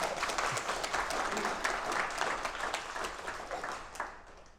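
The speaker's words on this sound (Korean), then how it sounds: "이때는 박수도 좀 쳐주셔야 되는데." An audience at a lecture applauds for several seconds, a soft, moderately distant clatter of many hands that tapers off toward the end.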